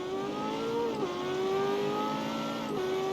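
A DLC McLaren in the racing game CarX Street revs steadily, its engine tone holding high with two brief dips in pitch, loud and close with no talking.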